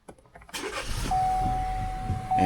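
A car engine cranks and catches after a jump start, rising into a steady idle hum that holds at moderate loudness, with a brief electrical whine over it.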